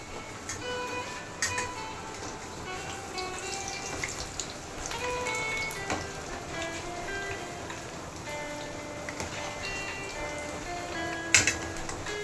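Pakoras fry in oil over medium heat, a dense, steady crackling sizzle with scattered sharper pops running throughout, close and fairly loud with no talk.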